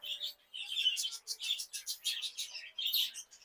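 Small caged birds at a bird market in Fatullah, Bangladesh, twitter in quick, high-pitched chirps that come in short, continuous bursts, fairly close and moderately loud.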